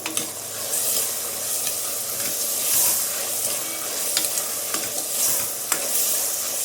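Onions and medium tomatoes cooking down in a pan for mutton drumstick curry, heard as a loud, close, continuous sizzle with intermittent spoon scrapes and clacks throughout.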